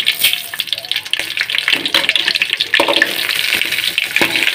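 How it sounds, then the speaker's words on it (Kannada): Mustard seeds splutter and crackle in hot oil with crushed garlic, a dense continuous sizzle broken by sharp pops close by. "ಅದಕ್ಕೆ ಈಗ ಸಾಸಿವೆ ಹಾಕ್ಕೊಳ್ತೇನೆ"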